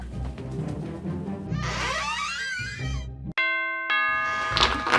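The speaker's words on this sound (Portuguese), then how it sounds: "Ó, oh, campainha!" A two-tone electronic doorbell chime rings out loud and clear in a house during a children's play skit, preceded by rustling and a brief childlike vocal sound, then followed by more indoor noise.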